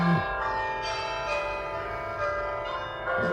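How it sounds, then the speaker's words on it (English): An iPhone 3GS loudspeaker plays its bell tower alarm tone, a sequence of ringing, resonant chimes with long overlapping decays, heard close and clear with no speech. "So let me just put bell tower here."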